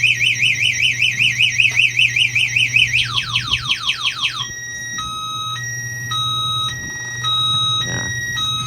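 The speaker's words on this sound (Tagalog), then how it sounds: "Alarm yan." A Condy 800 motorcycle's alarm sounds right after the breaker is switched on: a warbling electronic wail, then rapid descending chirps, then a stepped alternating beep pattern, loud and close with no talk over it.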